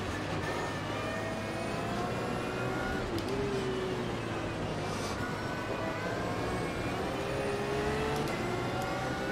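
Racing cars, including an Audi and a Mercedes, roar past on a race track, engines revving loudly and continuously with shifting pitch as they overtake, no voices over the din.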